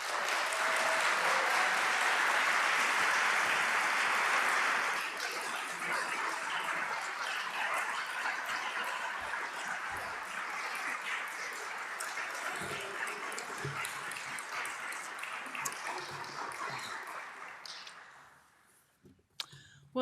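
An audience at the Fosdick Lecture on Preaching breaks into applause to welcome Rev. Barbara Lundblad, a dense, loud burst for the first few seconds that settles into steady clapping and then fades out near the end.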